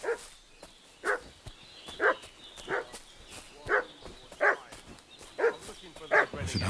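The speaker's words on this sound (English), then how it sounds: "What's that dog making such a fuss about?" A dog in the medieval open-world game Kingdom Come: Deliverance II barks repeatedly in a steady rhythm, about nine sharp, moderately loud barks at mid distance with short gaps between them and no other sounds.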